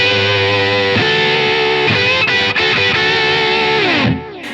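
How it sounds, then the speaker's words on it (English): Heavily distorted electric guitar through a Line 6 Helix, a pitch shifter placed before the distortion, holds sustained, warbling chords with a processed, slightly detuned character, then cuts off abruptly near the end. "the pitch shifter before doesn't sound good."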